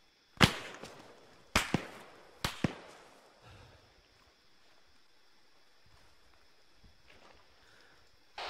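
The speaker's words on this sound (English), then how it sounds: "I'll cover with the MG" Three sharp, loud gunshots ring out about a second apart in an Arma 3 firefight, each with a fading echo, followed by quieter ambient rustle and faint water-like movement.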